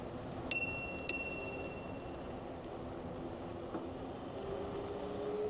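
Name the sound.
bell ringing on a Velotric Nomad 2 electric bike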